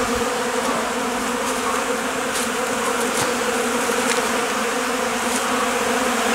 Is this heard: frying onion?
no